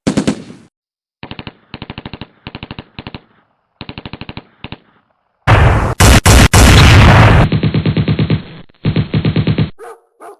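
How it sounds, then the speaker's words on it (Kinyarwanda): Rapid machine-gun bursts crackle in short repeated volleys, then a burning army ammunition depot in Burundi erupts in loud, dense blasts and booming explosions, followed by further staccato gunfire rattling through the aftermath. "hatangiye kumvikana urusaku rukomeye rw'amasasu n'ibisasu biturika bikurikirana"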